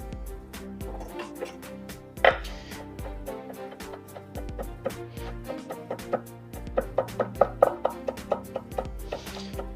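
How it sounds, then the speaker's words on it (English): A knife finely mincing fresh herbs on a cutting board for a vegan pasta dish, with soft irregular chops that become a quicker run of taps near the end, plus a louder clack early on and faint background sounds. "Just mince this up finely."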